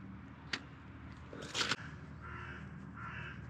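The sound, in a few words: crows cawing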